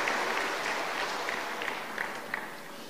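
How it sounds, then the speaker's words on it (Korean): Applause from a church congregation, offered as encouragement at a Sunday service, a steady wash of clapping that holds fairly level and fades slightly toward the end. "우리 격려의 박수 힘내시라고 큰 격려의 박수를 하겠습니다."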